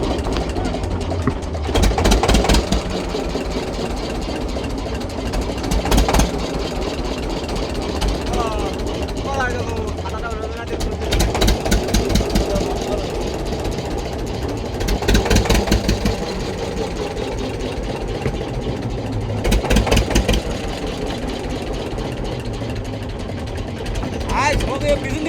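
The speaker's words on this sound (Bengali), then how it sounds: "আমাদের নৌকা ছেড়ে দিয়েছে" A motor boat engine runs steadily while crossing a river, a continuous loud drone with periodic louder bursts, heard beneath ongoing talk.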